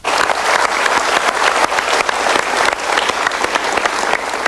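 A studio audience at an Indonesian televised motivational talk show bursts into loud, dense applause that holds steady throughout, many hands clapping together close by with no voices over it.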